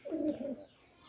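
A single short coo from a pigeon on a small pigeon farm, near and clear, fading into quiet.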